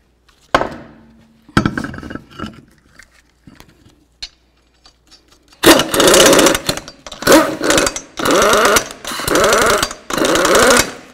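Rapid bursts from an impact gun run down the lug nuts on a 2003–08 Toyota Matrix front wheel, several loud hammering pulses in quick succession after a few quieter clanks of the nut and wheel being set in place.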